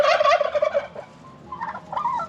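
A loose farmyard turkey gobbles in a rapid burst, pauses, then gobbles again more faintly, fairly close and clear with no talking.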